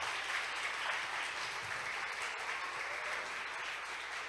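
Audience clapping at a church-style celebration event, a dense, steady wash of many hands that holds loud and even throughout with no pauses.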